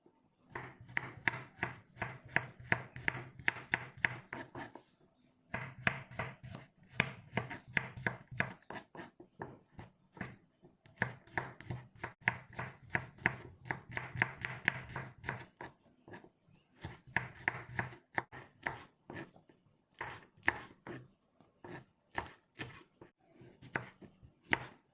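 Ingredients for kotok pindang are sliced on a cutting board, a knife tapping in fast, even bursts of dense chops separated by short pauses, close and crisp with no talking.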